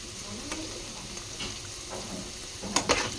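Green chillies with a little turmeric deep frying in oil, a soft continuous sizzle with occasional sharper crackles and pops, the loudest bursts near the end, fairly quiet and with no talking.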